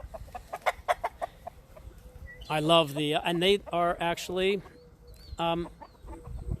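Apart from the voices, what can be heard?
roosters clucking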